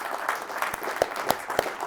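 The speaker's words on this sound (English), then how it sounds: "Max, a round of applause" A short burst of applause greets a student introduced as a guest, a few sharp individual claps standing out over a softer patter, with a voice briefly heard over it.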